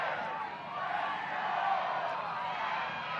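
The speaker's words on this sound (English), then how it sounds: "Listen to this sold-out crowd" A sold-out crowd at a college soccer match between West Virginia and Vermont roars steadily in the closing seconds, a dense, sustained wash of cheering and shouting heard from within the stands.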